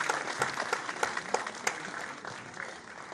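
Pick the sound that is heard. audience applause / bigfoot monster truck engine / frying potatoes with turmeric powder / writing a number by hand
audience applause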